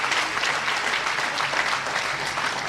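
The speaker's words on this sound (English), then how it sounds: "Can we give him a round of applause, ladies and gentlemen?" Dense, steady applause from an audience at a Robben Island prisoners' reunion gathering, continuous clapping with no talk.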